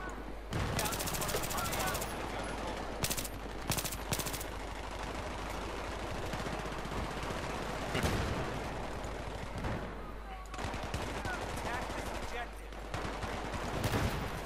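Gunfire in the video game Battlefield 3, with repeated sharp bursts of automatic fire and single cracks, some loud and close and some more distant, over a rumbling battle background.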